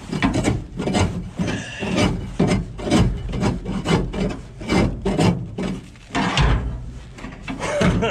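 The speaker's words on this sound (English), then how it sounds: "So that's a deflector up there that I'm scraping on right there." Rough hand scraping of rotten grain off the deflector inside an International 303 combine, a series of close, rhythmic rasping strokes about one every half second, loud and unbroken, with no talk.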